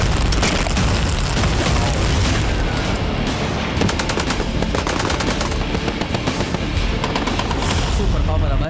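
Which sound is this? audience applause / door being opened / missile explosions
missile explosions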